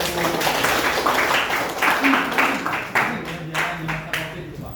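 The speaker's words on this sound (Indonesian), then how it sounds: "Tepuk tangan dulu dong ya." A classroom of students claps hands together in a burst of uneven, rhythmic clapping that carries on steadily throughout, sounding near and fairly loud.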